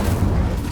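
A fire spell cast in the video game Hogwarts Legacy, a deep, rumbling whoosh like a muffled blast that holds steady through a brief burst, loud and close with no voices.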